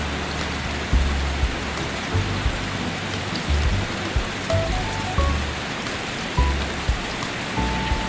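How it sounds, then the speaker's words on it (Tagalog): Heavy rain by the Bagsit River in Palauig, Zambales, a dense, steady hiss of pouring water with close drops and occasional low thuds striking a nearby surface. "At patuloy nga ang paglakas ng patak ng ulan."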